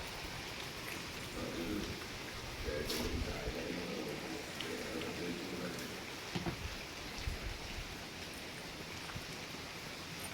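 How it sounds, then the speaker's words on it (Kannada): Heavy rain falls steadily in a continuous, even wash of noise, fairly faint and distant, with a few brief murmured voices mixed in. "ಫುಲ್ಲು ಮಳೆ ಹಿಡಿದಿದೆ."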